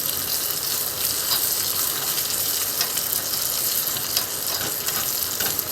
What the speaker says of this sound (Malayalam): പായസത്തിലേക്ക് വേണ്ടിയിട്ടുള്ള അണ്ടിപ്പരിപ്പ് ഇതെല്ലാം കൂടെ ഞാൻ വറുത്തെടുക്കുകയാണ്